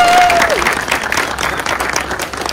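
A crowd claps for supporters at a university tournament presentation ceremony, dense and steady applause near the microphone, with a brief voice tone fading early on.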